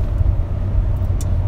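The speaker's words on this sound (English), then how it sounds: "I'm trying to get over here, but there's a car." A car rolls past on the road close by, a steady loud low rumble of tyres and engine filling the whole moment with no speech over it.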